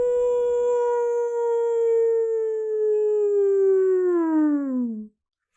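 A human voice imitates a jackal's howl, one long sustained rising-then-falling tone held for about five seconds before dropping off and ending abruptly, loud and alone with no other sounds.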